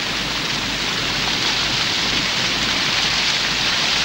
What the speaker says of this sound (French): La pluie tombe 130 jours par an.